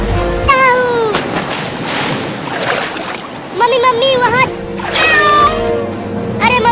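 Cat meowing in a flooding scene from a desi comedy sketch, several loud, rising-and-falling meows in bursts, mixed with a voice calling out and splashy background noise.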